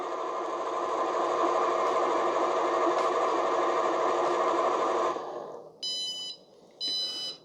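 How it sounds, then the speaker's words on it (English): A Cuisinart DCB-10 automatic cold brew coffee maker runs with a steady motor hum. It then stops and gives high-pitched electronic beeps at the end of its cycle, close and clear, with no talking. "it does beep at you 3 times, and then these lights flash at you down here"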